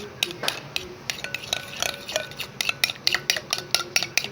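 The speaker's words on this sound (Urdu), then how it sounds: "تو یہ میں پھینٹ رہی ہوں" A spoon whisking yogurt (dahi) in a bowl, producing quick rhythmic clinks and scrapes that speed up into a steady beat, close and clear with no talking.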